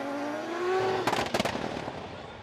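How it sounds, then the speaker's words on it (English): Formula Drift Japan drift car, a 3-rotor rotary, revving then crackling with a burst of sharp exhaust pops and bangs over steady engine drone, close and loud. "You hear his car popping versus that 3-rotor."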